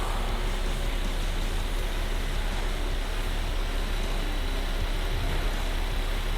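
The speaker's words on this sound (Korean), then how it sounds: "엔진 소리도 일정하네요" An Infiniti Q70 3.7 engine idling with the hood open, giving a steady, even hum that stays constant throughout with no revving or voices.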